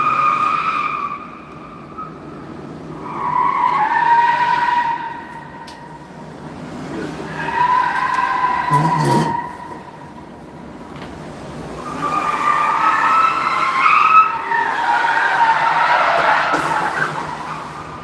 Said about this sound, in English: This car was drifting.